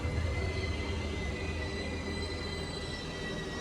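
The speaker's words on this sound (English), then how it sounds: "We took the subway there and it was hot." A Paris subway train rumbles steadily with a loud low roar and faint high squeal of wheels, constant throughout, no voices.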